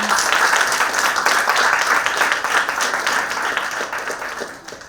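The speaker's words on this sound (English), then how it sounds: "let us give a big round of applause to our KRM Natyalaya students for their wonderful performance" An audience at a school event gives a round of applause for a dance school's student performance, a thick wash of clapping that stays strong and then tapers off toward the end.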